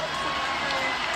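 A capacity boxing crowd inside the MGM Grand Garden Arena in Las Vegas cheers during the final round, a continuous, fairly faint roar of many voices that stays at one level.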